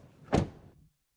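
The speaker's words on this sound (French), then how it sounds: "Les sons des portes." A single solid thunk as a door of a 2026 Toyota RAV4 GR Sport shuts close by, a short sharp impact that quickly dies away into silence.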